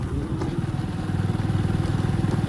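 A motorcycle engine runs close by with a rapid, steady putter and a slight rise in pulsing toward the end; no one speaks.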